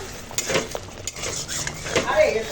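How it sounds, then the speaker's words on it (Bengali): A spoon scrapes and clinks against a cooking pot while roasted panch phoron spice powder is mixed into mango chutney, a few irregular metallic knocks and scrapes up close, with faint sizzling underneath. "এবার ভালো করে মিশিয়ে নেবো"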